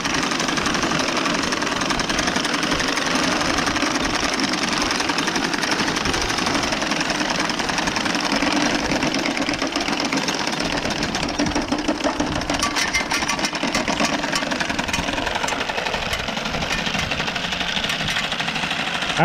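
Horse-drawn sickle bar mower cutting hay, a loud, dense mechanical chatter of the cutter bar running steadily and close for the whole stretch with no voices.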